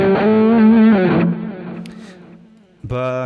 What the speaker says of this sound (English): you also have the middle pickup, which gives it a slight out of phase sound.